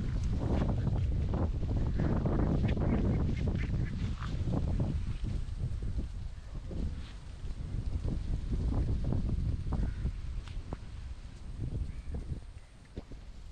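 Strong wind gusts past an outdoor fishing spot during heavy rain and flooding, a continuous rough roar that swells and eases with the gusts and is loudest in the first few seconds.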